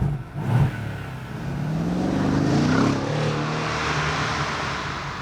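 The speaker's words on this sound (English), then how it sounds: "this car still rumbles like a proper V8" A deep twin-turbo V8 rumble from a 2014 Mercedes-Benz E63 AMG S-Model wagon rises and holds steady, a throaty growl close by with a brief revving swell near the start.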